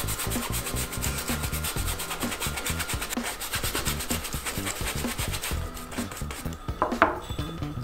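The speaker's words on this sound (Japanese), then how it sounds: "この濡れたブラシでちょっとこう擦るような感じですね" A damp brush scrubs a cap in sneaker-style care, giving a continuous, close, rhythmic scratching and rubbing with quick repeated strokes throughout.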